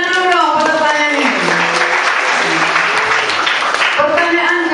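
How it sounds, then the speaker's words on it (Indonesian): A crowd at a school quiz competition applauds loudly and continuously, with raised voices and tonal calls rising over the clapping at the start and end. "Tepuk tangan dulu dong buat pertanyaan ini."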